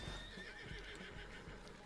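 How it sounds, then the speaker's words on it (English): A horse in the video game Red Dead Online whinnies once briefly, alone and fairly quiet, with faint hoof clip-clop in the background. "Come on, horse."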